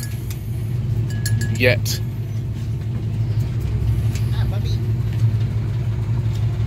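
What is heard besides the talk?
truck driving, riding in the back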